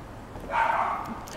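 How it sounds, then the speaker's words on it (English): A dog barks briefly outdoors near a park in a residential neighbourhood, a short, faint yip-like bark at a distance over quiet background. "I can hear someone out there with their doggy right now."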